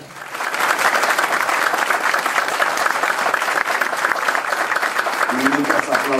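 Loud, sustained audience applause at a political party gathering, rising quickly into a dense roar of clapping, with a voice beginning to speak over it near the end.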